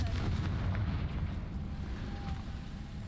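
A Confringo fire-spell explosion in Hogwarts Legacy, heard as a fairly quiet, rumbling blast that lingers as a continuous low roar across the whole moment.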